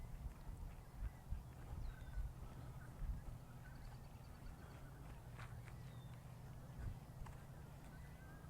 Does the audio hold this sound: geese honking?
yes